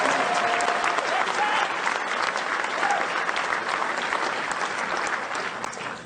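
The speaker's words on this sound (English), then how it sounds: "Give her a round of applause." An audience at a Donald Trump political rally in Wilmington, North Carolina, applauds loudly, a dense, sustained clapping that holds steady for several seconds and fades slightly at the end.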